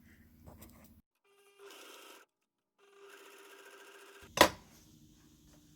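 Sewing machine stitching a seam on a reusable fabric mask, short bursts of rapid mechanical whirring separated by pauses, close and fairly quiet, with a sharp click near the end.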